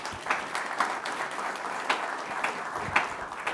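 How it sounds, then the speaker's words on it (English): Audience applause at an event on HBCUs, HSIs and TCUs, a short burst of clapping from a room full of people, with a few louder claps standing out in the wash of sound. "Give yourself a round of applause."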